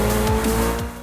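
Racing car in Forza Horizon 4 screeching its tires in a loud, close squeal, over a roaring engine with brief pitch sweeps, for about a second.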